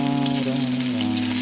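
Sausages fry alongside bacon in a pan, giving a steady close sizzle with a constant hiss and a low hum running beneath it, with no voices.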